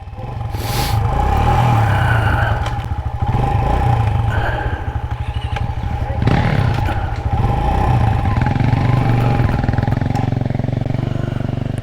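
A Kawasaki KLX140RF dirt bike engine runs close by on a single-track trail in Payson Canyon, Utah, with a steady buzzing idle, a few rising revs and some mechanical clatter. It stays loud throughout, and a voice may be faintly audible.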